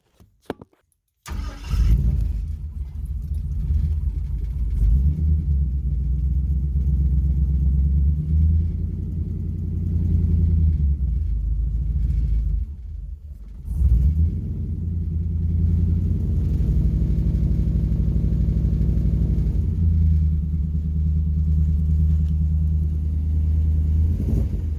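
The LS engine of an Ecto-1 car runs roughly in cold weather. It cranks and catches after a brief start, then settles into a loud, close, uneven idle that dips and surges, briefly stumbles midway, and carries on alone without talk.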